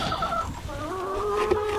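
Backyard chickens cluck close by in a short run of soft, warbling calls, with no talking over them.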